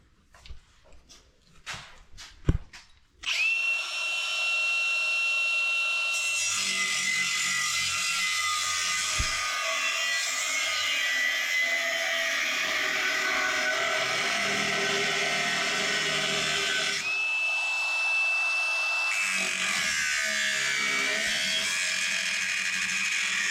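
Cordless Milwaukee angle grinder with a cutoff wheel slicing through a two-piece steel drive shaft, a loud, sustained high-pitched grinding whine after a few light clicks, briefly easing and then cutting on.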